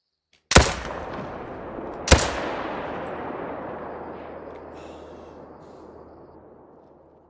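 Two loud, sharp rifle shots at whitetail deer in theHunter: Call of the Wild, about one and a half seconds apart, each followed by a long echoing decay across open terrain, with no talk.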